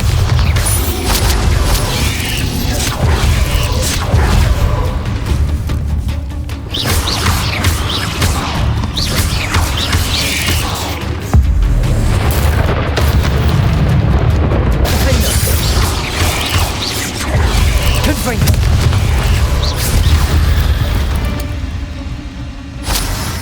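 Spell explosions from Bombarda and Confringo burst repeatedly in a Hogwarts Legacy battle against a goblin attack on a village, loud booming blasts layered over dense game sound and music, with a voice shouting the spell names.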